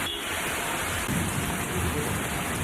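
Heavy rain pours down steadily during a monsoon-style downpour that has flooded roads, a dense continuous hiss close by with no voices.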